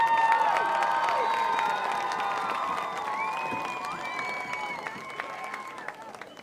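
Crowd at a high school football game claps and cheers for senior cheerleaders during halftime, scattered clapping and distant shouts slowly fading, with voices and whistle-like tones mixed in.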